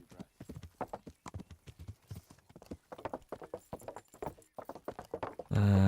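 Horse hooves clip-clop in a quick, steady rhythm from a rider on the move in Kingdom Come: Deliverance, close and moderately loud, ending with a sudden burst of louder game sound.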